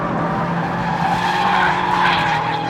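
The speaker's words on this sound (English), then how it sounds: "You can just hear that tyre spinning up" A 2-litre Mazda MX-5 with an open differential spinning a rear tyre on a race track, a steady loud engine drone with a rising squealing skid building toward the end, close and continuous without talk.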